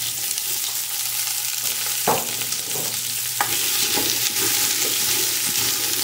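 Two large white onions frying in a pan, a continuous hiss with a few sharp spatula scrapes and stirs partway through.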